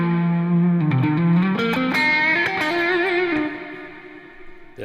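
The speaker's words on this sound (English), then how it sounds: "There's a lot of reverb on there" An electric guitar plays a bluesy phrase soaked in heavy reverb and distortion, notes bending and ringing out before fading into a long echoing tail.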